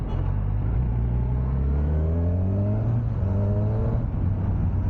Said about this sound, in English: it still manages to grab the attention, especially after 3000 rpm